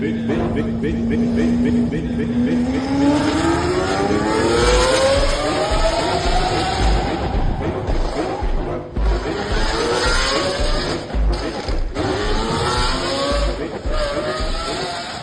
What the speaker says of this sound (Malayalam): ലംബോർഗിനിയുടെ സൂപ്പർ കാർ മോഡലായ അവൻഡോർ SVJ ആണ് ബംഗളൂരുവിലെ നിരത്തുകളിൽ അമിത വേഗത്തിൽ ഓടിച്ചത്